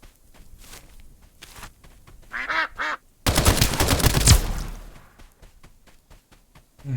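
In the video game Escape From Duckov, a few short duck quacks sound in a quick pair amid scattered footsteps, then a burst of loud gunfire or explosion noise follows before things settle back to soft steps.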